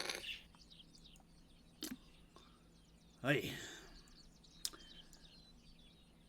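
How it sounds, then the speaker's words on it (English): Bird chirps from a Syrinscape ambience track play during a tabletop roleplaying session, a faint, steady scatter of high twittering calls broken by a few sharp clicks and knocks, with a brief spoken word near the start. "Or turn off Syrinscape and listen to the birds chirping."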